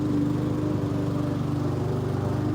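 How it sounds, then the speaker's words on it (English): A lawn mower engine drones steadily nearby, a constant low buzzing hum with no pauses. "The lawnmower has entered the chat."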